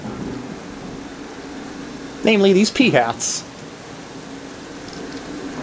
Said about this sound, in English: And now it is raining!